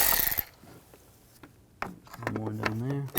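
An 8mm socket ratchet clicks in short bursts as it backs screws out of the bumper cover on a 2013–2019 Ford Escape. Light tool clatter follows, with brief spoken words near the end.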